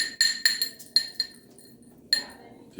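Ingredients for a children's science volcano are stirred together in a glass, a spoon clinking sharply against the sides in a few quick taps, a pause, then more clinks, close and clear without talking.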